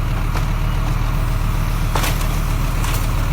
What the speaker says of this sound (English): You can hear the noise of its diesel engine.